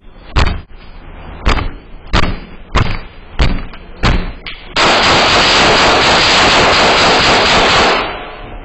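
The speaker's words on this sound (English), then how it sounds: "Open up the door, we kicking it in." Repeated heavy kicks slam against a door, about seven sharp bangs spaced roughly evenly, followed by a long loud burst of harsh noise that cuts off, all loud and close with no speech.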